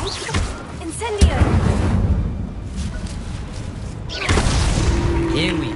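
An Incendio fire spell is cast in the video game Hogwarts Legacy, giving a sudden whooshing burst of flame that swells and lingers, followed by a second flaring burst a few seconds later over ambient game sounds.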